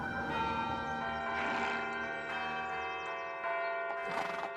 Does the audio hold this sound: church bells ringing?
yes